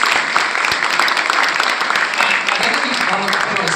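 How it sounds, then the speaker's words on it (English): Sustained, dense applause from a large audience at an awards gala at an innovation hub, clapping steadily and loudly throughout with no break. "a huge round of applause"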